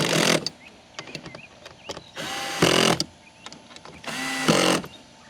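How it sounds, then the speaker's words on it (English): Power drill on its lowest torque setting driving screws into seat rail risers on an Old Town Sportsman PDL 120 Pro kayak: three loud whirring bursts, each about half a second, separated by quiet gaps with faint clicks and handling noises. "Drill lowest possible torque setting."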